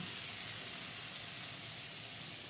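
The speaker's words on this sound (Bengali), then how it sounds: "এখন আমি এটার মধ্যে এই চিকেনটাকে দিয়ে দিচ্ছি" Chicken sizzling in a pan of onion and tomato for doi chicken, a steady dense hiss of frying that holds evenly throughout, close and continuous with no talk.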